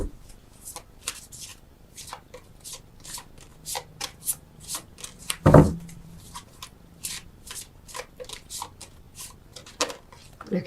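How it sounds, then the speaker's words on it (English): Tarot cards shuffled by hand close up, a string of quick crisp riffles and slaps in uneven bursts, with a louder thump midway. "as I'm shuffling, it just opens me up and I get more messages"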